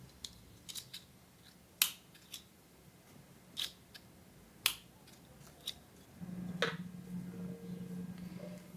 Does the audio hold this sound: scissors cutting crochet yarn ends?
yes